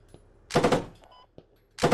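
Gunfire in the Squad military shooter game, two loud close bursts of rapid shots separated by a brief quiet stretch with faint distant cracks.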